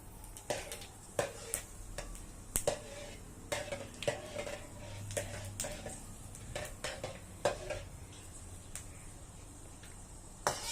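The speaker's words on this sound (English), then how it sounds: "And you're going to stir it." Spices being stirred in a pan for an Indian sardine gravy, with soft scraping and clinks of a utensil against metal at an uneven rhythm, faint and close, over a low background hum.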